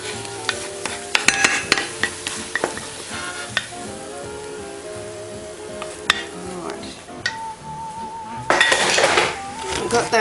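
Butter-rich scrambled eggs are scraped out of a frying pan onto a plate, a busy clatter of utensil against pan and dish over light sizzling, close and fairly loud, ending in a brief burst of scraping.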